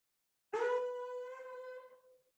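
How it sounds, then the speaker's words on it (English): Buzzing lips for trombone practice produce a single reedy, steady tone with rich overtones, starting sharply and fading out after under two seconds, close and solitary. "You can try buzzing right now by allowing air to pass between your lips"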